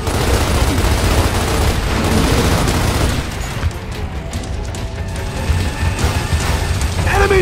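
A weapon being reloaded in the video game Gears of War Ultimate Edition, with loud mechanical ratcheting and clanking over a steady roar of combat noise.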